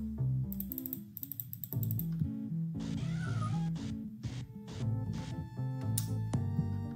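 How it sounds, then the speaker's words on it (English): A cat in the game Elder Scrolls 2 meows a few times over looping synthesized game music, with clicking keys or mouse taps audible throughout. "Little cat."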